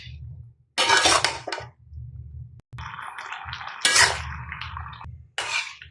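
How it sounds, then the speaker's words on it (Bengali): Bottle gourd pieces go into a pot of fish curry cooked with green chilies and chili powder, giving three bursts of loud sizzling and clatter over a low steady hum, with no talking. "এখন লাউ দিলাম,"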